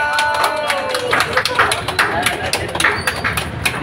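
Crowd clapping after a ribbon cutting at a hospital opening in Kadapa, steady scattered claps close by, mixed with voices talking over it throughout.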